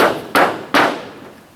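A hammer drives nails into a metal-covered tiny house floor, striking twice in sharp, close, ringing blows, each decaying before the next, with no talk.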